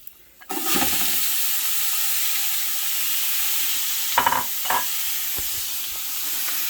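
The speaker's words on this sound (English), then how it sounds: "I'll take this and I'll stir it around until it gets translucent" Onions frying in a hot pan for an Italian gravy sauce, a loud steady sizzle that starts suddenly after a brief clatter and continues evenly, broken by a couple of scraping stirs.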